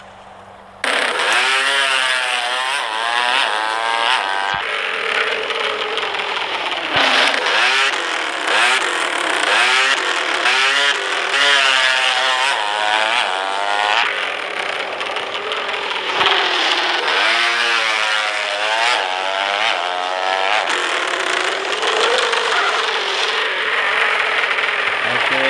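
Upin's racing motorcycle engine revs loudly and continuously, its pitch climbing and falling in repeated accelerating sweeps during a race, with buzzy, chainsaw-like whine close by.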